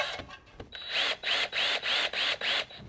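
A power drill drives screws into a security camera mount in repeated loud bursts, about five short pulses each lasting around a third of a second, separated by brief pauses.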